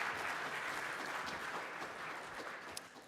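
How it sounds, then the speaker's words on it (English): Conference audience applauding a speaker at a technical summit, a soft, steady patter of many hands that holds evenly and tapers slightly toward the end. "So please, let's give a big round of applause to Peter Tong."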